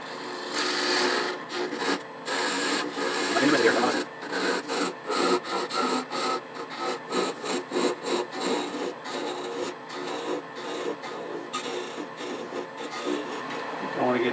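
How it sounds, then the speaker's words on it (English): A thin parting tool scrapes into spinning bubinga wood on a lathe, a close, rough cutting rasp that comes in uneven bursts and pulses, loud at first and then in shorter repeated passes. "take this down with a thin parting tool and leave a small peg"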